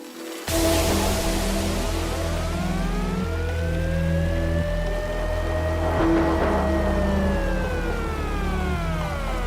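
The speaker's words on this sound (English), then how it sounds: "air raid siren, or is that a police car?" A wailing siren sweeps up and down within a melancholy electronic music track, its long rising and falling tone sliding over sustained synth chords and repeating its arc.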